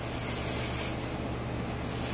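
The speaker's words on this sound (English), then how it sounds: "down here you got an adjustment valve for your airline, so you can cut this back" A spray gun hisses a steady, close, continuous stream of finish onto a mahogany hutch, with the air volume cut back for shading.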